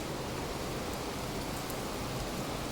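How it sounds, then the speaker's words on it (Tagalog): Dense, steady rain hissing across the whole clip, a continuous broadband wash with no voices or breaks. "Nagkasag ang uwan."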